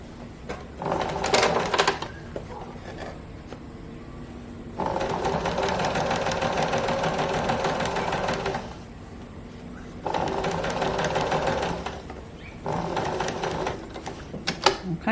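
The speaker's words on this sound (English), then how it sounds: "I'm going to just go as close as I can to the edge, down to that point, just with a straight stitch." A sewing machine runs a straight stitch along the edge of a pleated skirt in several steady, rapid bursts separated by short pauses, close and fairly loud.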